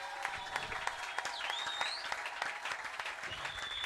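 A church congregation at a revival meeting claps together in sustained, dense applause, steady and even throughout, heard at a moderate distance in a reverberant hall with faint voices mixed in.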